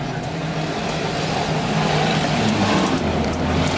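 A 1968 Lincoln Continental lowrider with suicide doors drives along, its engine giving a steady, loud rumble heard from close by, with no voices over it.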